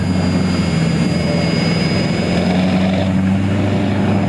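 An RC ERA C032 UH-1 Huey model helicopter hovers and moves forward low to the ground in outdoor wind, its constant motor and rotor whine loud and close over a wind rumble.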